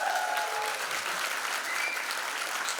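A conference audience claps steadily for Finn, a dense, even round of applause with a few faint cheers, nearer and full for the whole stretch.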